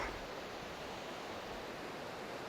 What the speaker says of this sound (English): Here's the waterfall.